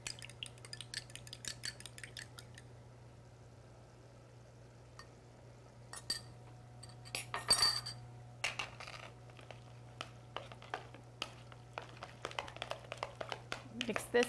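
A utensil stirs and scrapes through a crab cake mixture with beaten eggs in a bowl, giving soft intermittent clinks and tapping against the dish over a low steady hum, fairly close and quiet.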